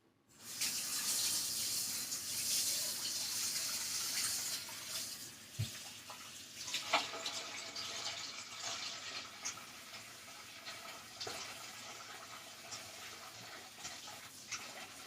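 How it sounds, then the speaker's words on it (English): Kitchen tap running steadily as something is rinsed under the water, splashing into the sink, close and continuous for the whole stretch. "I'm going to rinse this off and then we'll come back."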